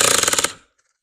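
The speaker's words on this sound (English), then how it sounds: "At number 1, it makes that clicking noise" A cordless drill's torque clutch set to 1 slips, giving a fast burst of about a dozen sharp ratcheting clicks up close that stops abruptly after half a second, followed by quiet.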